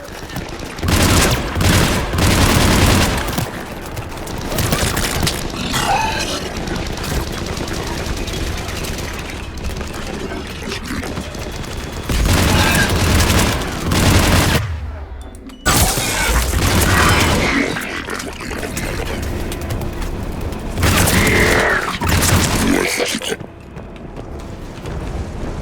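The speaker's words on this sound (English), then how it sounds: "We're taking heavy fire from the second story." Heavy gunfire in Mass Effect 3 builds into loud, sustained volleys mixed with mechanical clanks and booms, with sharp gaps where the shooting cuts out before the next barrage hits hard again.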